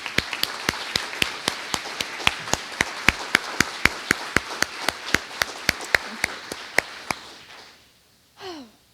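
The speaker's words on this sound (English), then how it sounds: "So let's have another round of applause for Judge Richard King, please." Crowd at a Veterans Day ceremony claps in sharp, evenly spaced single claps that fade out after about seven seconds, followed by a brief voice.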